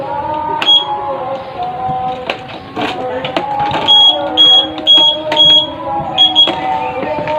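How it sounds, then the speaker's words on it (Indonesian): Repeated short electronic beeps from the anti-theft alarm on a carbureted Honda Beat motorcycle, sounding close and loud over steady background noise, with the beeps recurring in quick bursts. "ini juga saya pasang alat pengunci alarm anti malingnya supaya aman juga"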